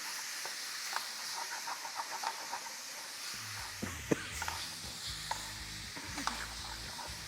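Half a kilo of minced keema fries in a pan, a steady soft sizzle with the scrape and clink of a spoon stirring it through, no voices, fairly quiet and close.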